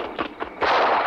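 Gunshots in a 1980 French low-budget science-fiction horror film: a few sharp cracks in quick succession, then a louder sustained burst of blasts close by, with no talk over them.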